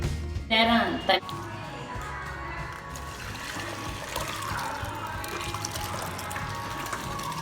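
Boiling water pours and trickles steadily into a vessel for making adai payasam, a continuous liquid splashing after a brief voice at the start.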